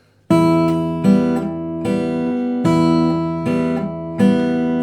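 Fingerstyle acoustic guitar plays the opening bar of a simple waltz, six plucked chords in a steady three-beat lilt with bass notes ringing under them, close and clear with no talking.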